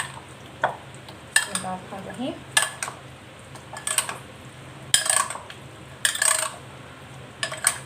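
Chicken with garlic and green chili is mixed in a pot, with a spoon clinking and scraping against the metal in short, separate bursts over a quiet background, and no one speaking.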